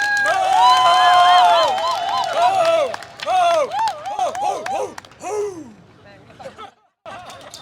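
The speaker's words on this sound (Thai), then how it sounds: "ตบมือโห่ร้องให้พวกมันได้ยินหน่อยครับ" A crowd at a Thai political rally roars with loud cheering, booing and shouting voices in rising and falling waves, fading out toward the end.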